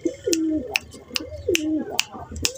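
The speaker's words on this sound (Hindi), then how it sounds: "ये हमारा गूगल कबूतर है" Pigeons, newly arrived at a loft setup, coo in a steady repeated rhythm of soft throaty rolls, close by, punctuated by sharp clicking taps between calls.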